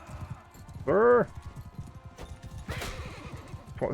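Horse hooves clip-clop steadily through a cavalry melee in the Mount and Blade II: Bannerlord video game, with one loud, rising whinny near the start; someone talks over the battle noise.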